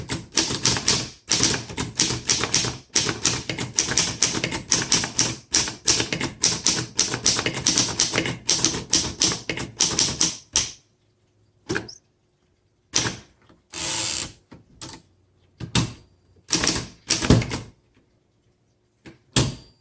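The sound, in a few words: typing on a 1928 Underwood 4-bank antique typewriter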